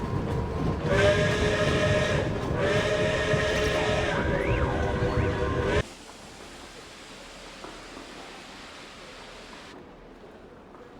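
A train pulls into Snezhnaya station in Genshin Impact, with rumbling wheels and two long whistle blasts, then the noise drops to a quieter station ambience. A voice speaks briefly.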